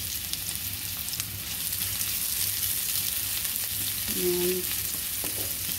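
Onion fries in a pan of oil for chicken feet adobo, making a continuous close sizzle and crackle while a voice briefly speaks over it.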